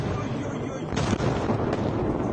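Explosion heard during the war in Ukraine, a loud broadband boom rising around the one-second mark and rumbling on through the rest of the stretch, with a second burst shortly after; no one talks over it.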